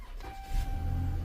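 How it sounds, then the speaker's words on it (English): A push-to-start car engine cranking and catching after a fuel pump replacement, a brief whir followed by a low, steady idle close by. "Hey, it fired right up."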